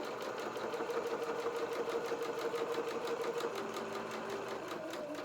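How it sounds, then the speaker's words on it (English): A sewing machine runs steadily along a dress hem at a 1/4 inch seam allowance, a fast, even mechanical whir with rhythmic needle ticking, close and continuous. "I'm going to sew there with my 1/4 inch seam allowance"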